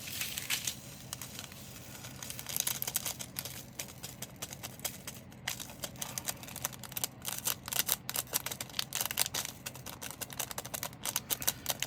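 Plastic bag being handled while sorting small items from a craft kit, with close, quiet crinkling and rustling in irregular bursts throughout, some sharper clicks.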